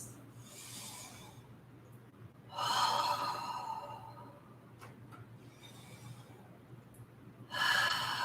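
Big deep breaths during a beginner yoga session, three slow, close breaths spaced a few seconds apart, each a soft airy rush rising and falling over a low hum.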